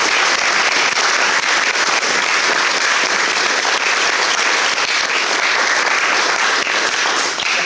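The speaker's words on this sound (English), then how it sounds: "give Jen Dion, our artistic director, and all the people who work backstage with her a big round of applause" Loud, continuous audience applause at the Shakespeare by the Sea festival finale, a dense wall of clapping from a large outdoor crowd that stays steady without letup.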